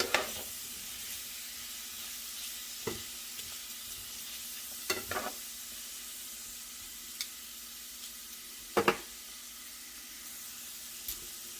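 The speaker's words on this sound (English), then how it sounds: "We're going to let these onions saute down here in the olive oil for a minute or 2." Onions sautéing in olive oil in a pan give a steady soft sizzle, with a few sharp clinks and stirring knocks now and then, close and without talk.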